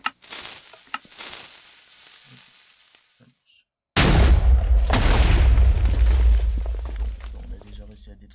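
TNT cannon blast in Minecraft: after a few quiet seconds of faint clicks, a sudden loud boom erupts and rolls into a sustained crackling, rumbling roar of explosions that slowly fades.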